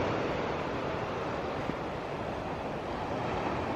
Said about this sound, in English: So this is Carbis Bay beach